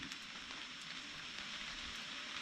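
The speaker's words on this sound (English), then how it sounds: "sounds like the rain's coming again" Steady hiss of rain falling on a surface, soft and even, with faint scattered drop taps and no voices.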